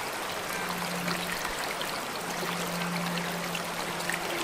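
Steady rushing water flows continuously, a broad even wash like a river running nearby, with a faint low hum in the background.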